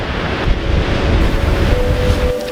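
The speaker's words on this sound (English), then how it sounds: "The waves were pretty small this day and it was super windy" Small surf waves wash at a beach under strong wind, a loud continuous rush with wind buffeting close to the microphone.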